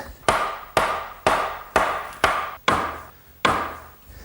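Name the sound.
bench joints driven together with a mallet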